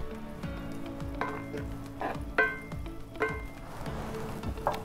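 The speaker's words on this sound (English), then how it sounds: "I've already got the pan preheating. I'm gonna put in 4 tablespoons of butter." Four tablespoons of butter melt and sizzle in a preheated pan, giving a quiet, steady crackle broken by a few brighter pops and clinks. A faint tonal hum runs underneath.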